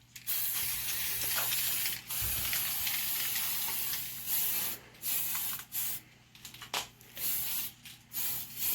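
Tamiya spray paint hissing from an aerosol can onto the body of a TRX4 Sport Dodge Power Wagon RC truck, a few long steady bursts broken by short pauses, close and fairly loud.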